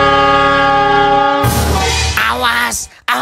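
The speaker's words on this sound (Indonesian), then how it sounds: "Itu ada kereta mau tabrakan." A cartoon train horn blares with a steady sustained chord, then gives way to a burst of noisy rumble and clatter as the train approaches, with swooping effects and a brief cartoon voice near the end.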